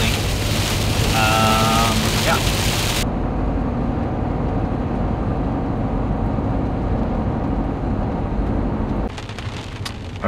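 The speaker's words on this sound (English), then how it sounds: "it's now hailing" Hail and rain hammer an SUV during a rainstorm, a loud, constant drumming and hiss on the vehicle that shifts in tone partway through, heard from close by inside.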